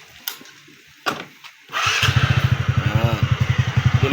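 An Easyride 150 motorcycle engine cranks and starts promptly after a valve clearance fix, settling into a loud, close, steady rhythmic idle that follows a few clicks and knocks.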